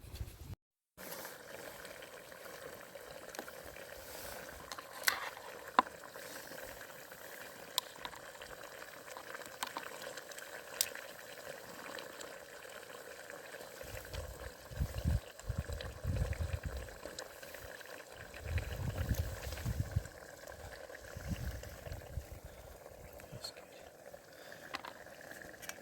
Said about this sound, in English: So we're going to leave the stove going, just wait for it to burn out.